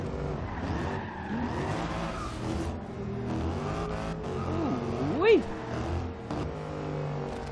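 Mercedes AMG E63 Biturbo in Forza Horizon 2 drifting, a revving engine rising and falling beneath squealing tires with a sharp skid peak, continuous and close, with talking over it.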